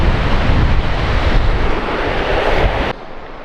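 Beach surf washing in, a broad roaring rush buffeted by heavy wind on the microphone, loud and continuous before dropping off abruptly near the end.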